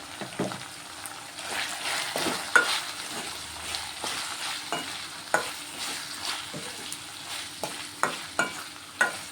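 Ginger garlic paste and turmeric frying in a pan for a stuffed ivy gourd curry, heard as a continuous close sizzle with regular scraping strokes of a spatula and soft bubbling.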